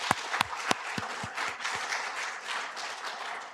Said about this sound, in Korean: 우리가 더 크게 격려의 박수 보내주시기를